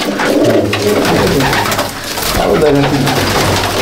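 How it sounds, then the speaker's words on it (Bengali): Old-breed Madrasi pigeons at a sale in Bauria, Howrah, coo steadily in a loud, close chorus while someone talks over them. "তো দেখুন পায়রা, দেখুন কোয়ালিটি"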